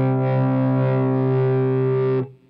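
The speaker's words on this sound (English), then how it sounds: "So you can hear how distortion can get added through this circuit." Sustained distorted tone from a studio compressor driven with cranked input gain, a buzzy, harmonically rich held note lasting about two seconds, loud and close, then cutting off abruptly.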